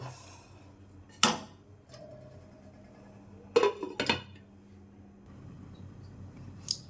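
A lid lifted off a pot of cooking koi fish curry (fish jhol with potatoes), giving a few sharp metallic clinks and scrapes near 1.3, 3.6 and 4.1 seconds over a quiet kitchen background.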